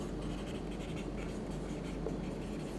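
Chalk or marker scratching steadily across a board during a Hindi-language chemistry lecture on crystal systems, a continuous faint scraping with a low room hum and no talk over it.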